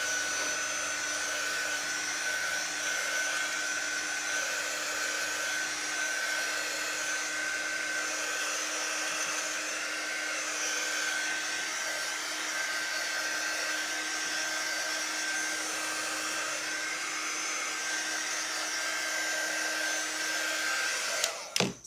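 A hair dryer blows steadily on paste in a craft project, a continuous whirring hiss with a constant hum held close for over twenty seconds before cutting off with a couple of clicks.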